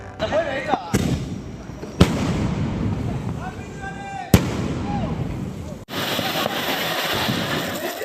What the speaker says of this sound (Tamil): ஐம்பது ஷாட் நூறு ஷாட் போன்ற வான வேடிக்கை பட்டாசுகள் வானை அலங்கரித்தன